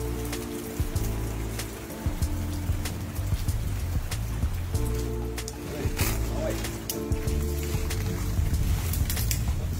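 Heavy downpour pounding surfaces around a storm-damaged house, a dense continuous hiss and patter with low rumbling underneath, loud and close throughout.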